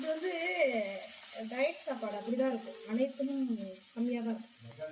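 Uttapam fries on a pan with a steady high sizzle running underneath, while someone talks almost continuously over it, close and clear.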